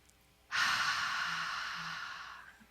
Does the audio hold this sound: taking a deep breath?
yes